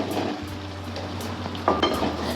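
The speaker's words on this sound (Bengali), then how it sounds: "এরপর মশলার সাথে ভালো করে আমরা আমাদের লাউ ভালো করে কষিয়ে নেব।" Bottle gourd pieces with spices, salt and tomato paste are sautéed in a pan. A low steady sizzle runs throughout, with soft scraping and a few brief clinks of a spoon against the pan near the end.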